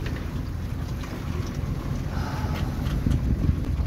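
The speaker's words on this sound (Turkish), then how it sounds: "12'den beri böyle makina yelken gidiyoruz." Steady low engine drone from a sailboat motor-sailing on the western Indian Ocean, with wind rushing across the microphone and faint water wash, continuous and fairly loud throughout.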